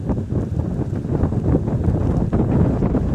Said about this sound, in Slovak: A trošku vietrisko severný.